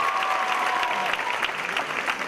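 Audience applause at a live kathak dance performance, a steady wash of clapping from a large crowd that holds at an even level from start to finish, with a faint tone in the background.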